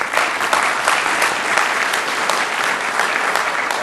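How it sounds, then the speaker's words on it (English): A city council meeting audience applauds, a full, even burst of clapping that holds steady throughout, fairly close and loud. "Give them a round of applause."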